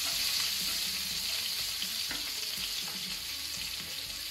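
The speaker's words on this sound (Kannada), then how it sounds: "ತುಪ್ಪದಲ್ಲಿ ಫ್ರೈ ಆಗಲಿ ಅದು." Chili, garlic and ginger fry in ghee for a simple chicken curry, giving a steady, close, dense sizzle with light crackles and a few stirring scrapes throughout, no voices.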